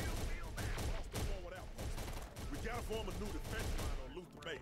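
Gunfire from Terminator: Dark Fate - Defiance rattles continuously as a dense, mid-distance barrage under a speaking voice.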